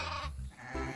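Sheep bleating in short wavering calls, a few quick bleats close by and fairly quiet, with no talk over them.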